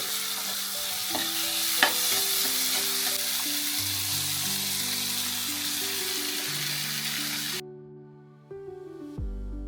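Cubed ash gourd tipped into a hot tempering and stirred, a loud steady sizzle of frying with scraping stir strokes throughout, cutting off sharply near the end as the pan quiets, with some background tonal music.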